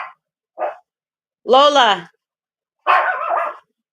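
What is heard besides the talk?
dog barking at someone at the door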